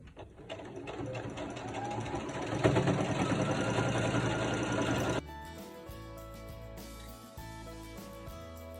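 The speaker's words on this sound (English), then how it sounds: "I'm going to sew on with the binding." Sewing machine stitching binding onto a chenille baby blanket, a steady close mechanical whir with fast needle ticking that runs for several seconds, then gives way to a quieter, lower hum.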